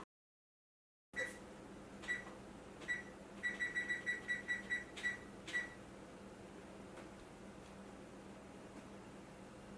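An oven beeping in a quiet home kitchen, a series of faint, short electronic beeps, some single and others in quick clusters, over a low background hum.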